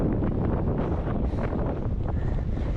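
Strong wind buffets the microphone in a steady, loud roar on open gravel country near Burra, South Australia, with no voices and no break in the rushing noise.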